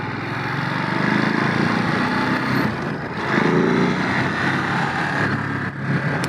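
A 2022 Ducati Monster motorcycle runs while being ridden in urban mode, its engine a steady, loud, close drone with slight rises and falls in revs throughout.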